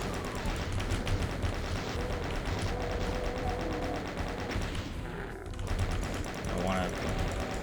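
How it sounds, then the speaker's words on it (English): Chaingun fire from the video game Doom, rapid continuous bursts of shots mixed with game sounds, with a voice talking over much of the action. "Chain gun my way through this kind of carefully"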